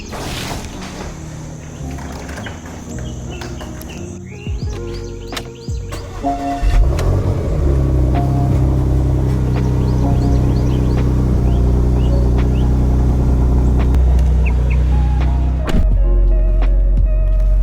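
A 360-horsepower car, quiet mechanical sounds at first, then the engine settles into a loud, steady drone that holds close up for the rest of the run, with a brief knock near the end.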